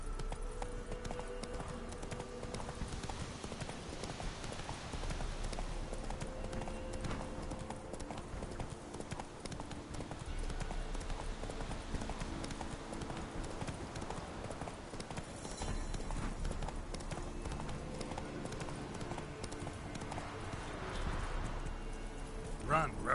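Roach the horse gallops in The Witcher 3, hooves clip-clopping in a fast, steady beat throughout, with game music and occasional talk layered over the hoofbeats.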